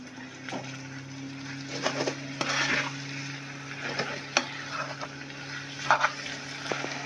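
Vermicelli and vegetables being stirred in a frying pan while finishing cooking in water, with a low continuous sizzle punctuated by irregular scraping clicks of the utensil against the pan.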